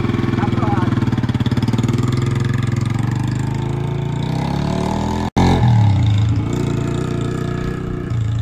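A motorcycle engine runs loud and close, idling with a steady throb before revving, while people talk over it; a brief dropout interrupts midway.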